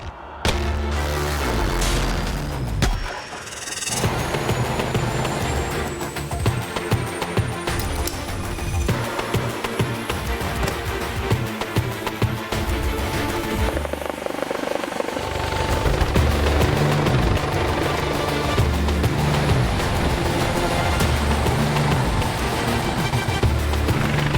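A helicopter engine starts up, whining and spooling to a loud, steady roar of thumping rotor blades that fills the whole stretch.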